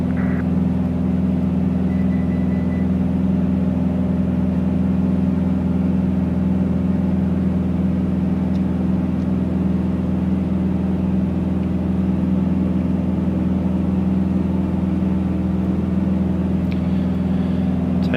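Steady, loud drone of a Beechcraft Bonanza V-tail's piston engine climbing out after takeoff, a constant low hum that holds unbroken throughout with no talk over it.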